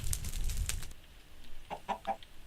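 A chicken in Minecraft clucks several times in quick, choppy bursts, fairly close and moderately loud over low game background noise.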